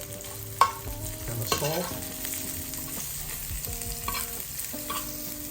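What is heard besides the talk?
stirring mushrooms frying in oil in a pan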